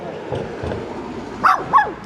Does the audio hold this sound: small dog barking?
yes